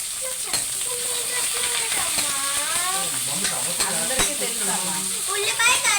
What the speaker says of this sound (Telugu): ఉల్లిపాయ, కరివేపాకు, అల్లం, పచ్చిమిరపకాయలు వేసేసుకుంది మా అమ్మమ్మ